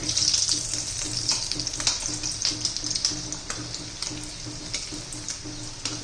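Potato roll samosas fry in hot oil over a low gas flame. A close, steady sizzle crackles with bright bubbling pops throughout, and there is no talk.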